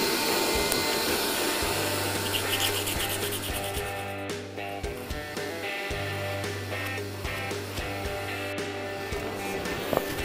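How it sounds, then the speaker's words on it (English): Coarse-grit sanding on an old, very hard walnut spoon, a steady close rasping rub over the continuous drone of a running dust extractor. "I've got dust extraction coming here, face mask, and we'll just start with a coarser grit."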